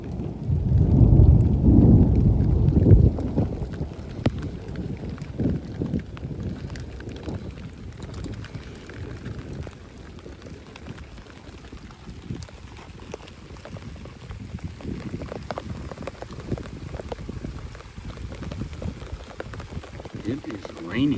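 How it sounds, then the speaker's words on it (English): Rain falls steadily outdoors with a deep rumble of thunder swelling in the first few seconds, then a continuous hiss of rainfall with low murmuring rolls, while someone talks intermittently. "It is raining out here."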